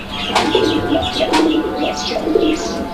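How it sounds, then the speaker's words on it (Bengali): Pigeons at a wholesale pigeon market coo repeatedly in soft, throaty rolling calls close by, several birds overlapping in an uneven rhythm over a constant busy background. "এই যে এটা হচ্ছে মাদি কবুতর"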